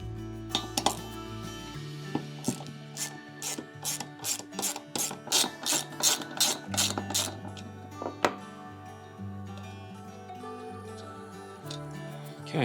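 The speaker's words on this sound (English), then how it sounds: "Okay, now we'll undo the center bolt." A wrench ratchets repeatedly while the center bolt is undone on a Honda GX series (GX160–GX390) engine's recoil starter, its clicking pawl sounding in close, rhythmic bursts with metallic clinks and a low mechanical hum around it.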